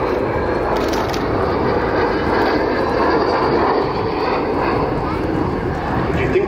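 An Avro Vulcan bomber makes a low pass, a loud, steady broadband jet roar that holds at full strength throughout, with talk faintly mixed underneath.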